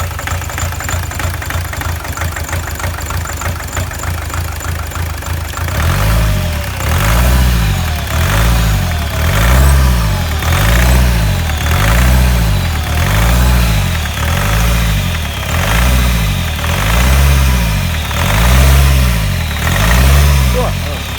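BMW E46 2.0 diesel engine revving up close in a steady repeating rhythm of surges, its idle uneven and rough between revs; a voice speaks briefly at the start.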